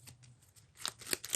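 A deck of supplemental playing cards being shuffled by hand: a short, quiet riffle with a few crisp flicks near the end.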